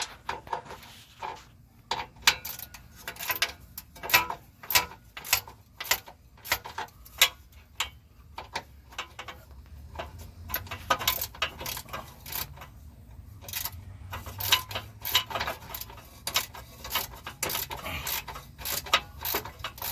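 A ratchet wrench works 15 mm bolts on a Chevy Tahoe heat shield, giving bursts of quick, dry clicking ticks close by, repeated across the clip with short pauses and a faint background hum.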